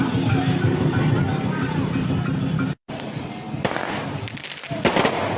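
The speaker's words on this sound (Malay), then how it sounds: "Dia bunga api." Fireworks crackle and pop in a dense outdoor barrage, with a brief dropout before more bursts and sharp snaps continue.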